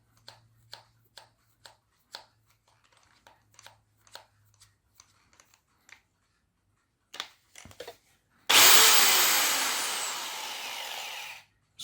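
Nine or ten soft taps and clicks come first, then a loud power drill whirs for about three seconds drilling into plastic before stopping; no voices.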